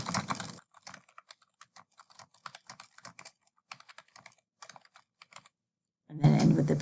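Keys on a computer keyboard tapped out in an irregular run of light clicks, close and fairly quiet, with brief pauses between bursts and louder noise at the start and end.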